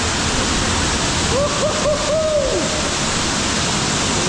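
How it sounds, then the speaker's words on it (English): A loud waterfall inside a cave in Bali roars continuously and close by, with a brief hooting, whoop-like tone rising over the rush midway. "Now that is a freaking cold waterfall."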